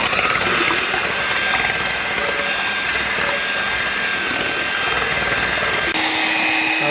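An electric mixer whirs loudly and continuously, whipping egg whites with cream of tartar, a steady dense buzzing drone close up with a slight shift in tone near the end.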